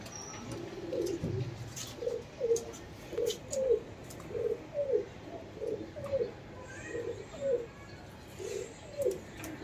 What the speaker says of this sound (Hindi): ये सब शौक के कबूतर